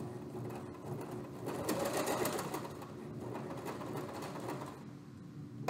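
A sewing machine stitches fabric with a close, continuous mechanical whir and rapid needle rattle, running steadily before a brief stop at the end.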